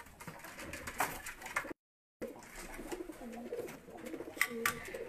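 Racing pigeons kept in a loft coo repeatedly in soft, throaty murmurs, several birds overlapping at close range against a busy background, with a brief dropout midway.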